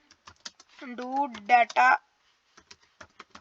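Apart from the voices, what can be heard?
typing a Fiverr gig title on a computer keyboard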